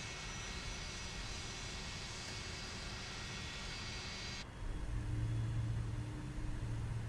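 Simulated airliner engines running in Microsoft Flight Simulator, a steady close drone that drops in pitch partway through as one engine is shut down, followed by a low hum.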